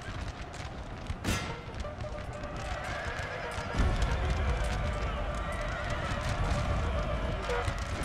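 Cavalry horses neigh and gallop in a Napoleon Total War 3 battle, with a sharp whinny early on, then a heavy, continuous rumble of hooves amid battle noise.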